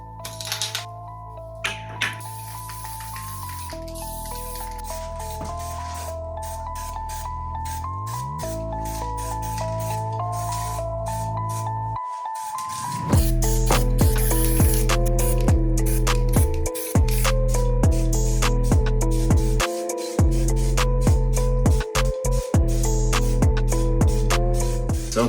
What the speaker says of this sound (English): So let's start this baby off with a quick coat of primer